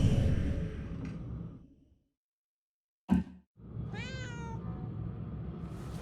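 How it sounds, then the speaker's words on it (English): A cat meows once in the Murdered: Soul Suspect video game, a clear wavering cry that follows a short thump and silence, over low ambient game noise. "Kitty cat, hear you."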